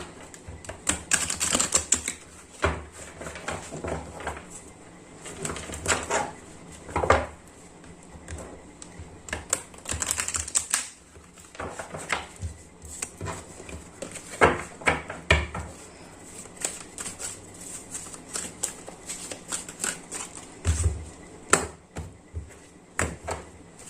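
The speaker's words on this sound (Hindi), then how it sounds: "थोड़ा सा धैर्य बना के रखे जब तक मैं शफल कर रहा हूँ।" Oracle cards are shuffled by hand in a long run of crisp, rapid riffling and flicking bursts, close and fairly loud, with brief pauses between rounds and no talking.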